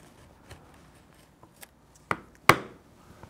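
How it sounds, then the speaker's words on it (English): A knife cuts through heavy leather along gently curved lines, giving a few sparse, close scraping slices with two louder strokes near the end in a quiet room. "then I can do it with a knife quite easily"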